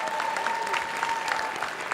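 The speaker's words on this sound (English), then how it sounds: "Give yourselves a round of applause." Steady, dense audience applause at a city budget engagement forum in a middle school, an even wash of many hands clapping that fills the whole short stretch.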